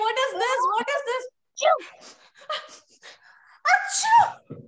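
A single loud sneeze bursts out between short stretches of a voice speaking nearby.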